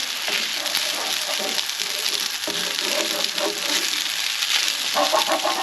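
Frozen peas hitting a hot pan with chicken and mushroom in black pepper sauce, giving a continuous loud sizzle and crackle, with occasional clinks and stirring scrapes throughout.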